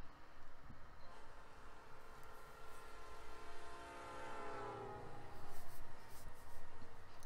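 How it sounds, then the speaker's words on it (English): Train departing a station in the Pokemon Reborn video game, a steady rumbling rail noise with a rising whistle-like horn tone swelling in the middle, moderately loud and without talk. "Train's leaving any minute."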